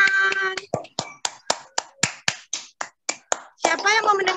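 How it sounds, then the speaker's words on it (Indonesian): Children at a Sunday school church service clap their hands in a quick, even rhythm of sharp claps, with voices heard briefly at the start and end. "tepuk tangan dulu buat teman-teman."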